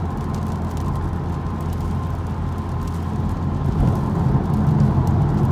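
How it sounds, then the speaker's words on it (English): Steady low road and tire roar inside a 2018 Honda Civic Type R cruising on a freeway on new all-season tires, a constant rumble that swells slightly near the end, with no talking. "as you can tell right away, there's less road noise"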